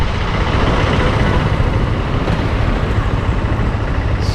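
Honda Hornet 2.0 motorcycle engine running steadily with a low, continuous rumble, close and loud, with no distinct rev peaks; no voices.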